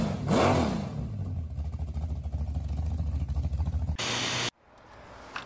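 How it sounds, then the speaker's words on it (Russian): A GAZelle van engine turns over and catches, then revs hard in surging waves for several seconds before cutting off abruptly, leaving a faint, hollow background. "Можешь просто наложить звук мотора, ну что она якобы завелась?"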